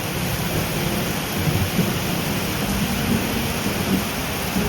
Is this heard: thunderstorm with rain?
yes